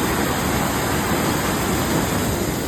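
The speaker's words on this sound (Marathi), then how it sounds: "प्रचंड प्रमाणात पाऊस पडत असल्यामुळे धबधब्याला देखील पाणी जोरात असणार आहे" Somtirth waterfall, swollen by heavy rain, roars as a loud, continuous, broadband rush of water that stays steady throughout.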